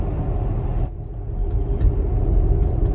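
A Tesla Model X towing a trailer on the highway, with slightly unbalanced trailer tires rattling the hitch; steady road rumble and engine-like drone from inside the cabin, with faint intermittent rattles and knocks over the noise.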